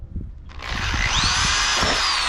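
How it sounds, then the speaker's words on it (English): A power drill bores holes in a cabover truck cab, winding up to a loud, close, high whine that holds steady after a moment of low handling noise. "we'll mark the cab and start drilling some holes"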